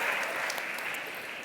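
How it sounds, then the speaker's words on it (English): An audience claps steadily as a dense, even wash of applause that holds at a fairly constant level throughout. "Can we give them a big clap?"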